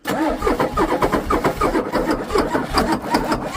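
A Ford 6.9 IDI diesel engine cranking over, its starter churning in a fast, steady rhythm for several seconds, loud and close with no one talking.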